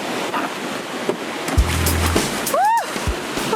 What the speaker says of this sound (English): I'm going in this river right now for no reason at all.